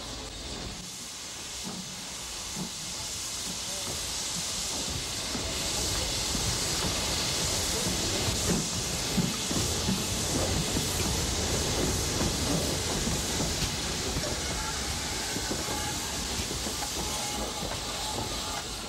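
A steam locomotive hisses at Gloucester Horton Road shed in 1962, a broad continuous roar of escaping steam with faint rail clatter and engine rumble beneath, fairly loud and steady for the whole stretch.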